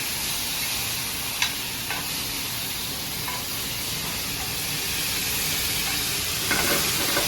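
Steak for Philly cheesesteak sizzles steadily in a hot pan with a constant close hiss and occasional faint pops and scrapes, with no talking.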